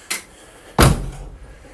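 A 1970-81 Camaro coupe door being shut: a light first contact, then one solid slam with a short low thud and ringing decay, close and loud, no talking.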